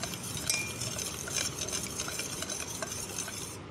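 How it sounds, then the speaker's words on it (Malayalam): Turmeric powder stirred into about half a glass of water, a steady close scraping and swirling of spoon against vessel with faint clinks, continuous for a few seconds with no talking. "ഇനി നമുക്കിത് നന്നായിട്ടൊന്ന് മിക്സ് ചെയ്ത് എടുക്കാം കേട്ടോ"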